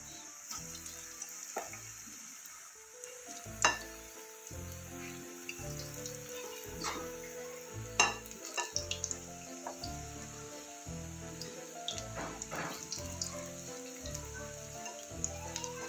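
Lauki (bottle gourd) kofta pakoras fry in oil over a low gas flame, giving a steady soft sizzle throughout with rhythmic background music layered over it and no talking.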